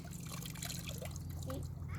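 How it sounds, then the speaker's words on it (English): A cloth dunked into a bucket of water while cleaning in a garden, with soft trickling, dribbling and sloshing close by over a steady low hum. "So I dunk it in the water again"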